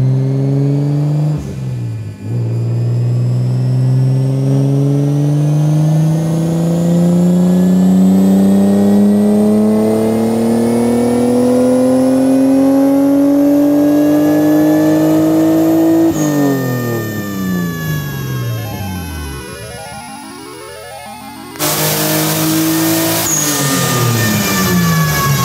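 A Nissan R34 Skyline engine revving hard on a dyno, rising in long sweeping pulls with harmonics climbing in pitch, dropping back between runs, then a sharp burst and further revving near the end, loud and close.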